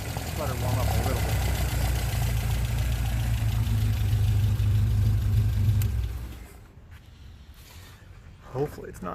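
A car engine idles as it warms up, with a steady low rumble for about six seconds, then cuts out, leaving quiet room noise and a brief faint clatter.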